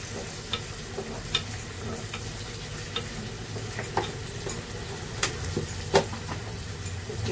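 Food being sautéed in a pan, a continuous soft sizzle with periodic scraping and clinking of a stirring utensil against the pan, at moderate volume with no talk.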